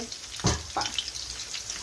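Hilsa fish frying in a pan, a soft continuous sizzle with a couple of brief louder bursts of spatter or stirring near the start.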